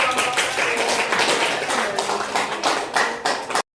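Classroom applause during a computer accounting lesson after a group presentation: a dense, steady patter of many hands clapping for about three and a half seconds, then stopping abruptly.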